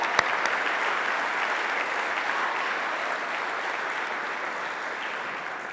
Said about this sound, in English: join me in a round of applause for all that they do to our campus